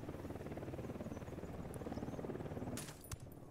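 Helicopter approaching in the video game Ghost Recon Wildlands, a continuous pulsing rotor thump that stays fairly faint and steady, followed near the end by a few sharp higher-pitched bursts.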